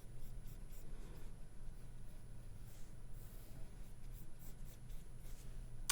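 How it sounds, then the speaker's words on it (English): Pencil drawing a loose oval on paper, a soft continuous scratchy graphite scraping with short strokes, faint and close over a low background hum. "I'm going to draw a loose oval at an angle."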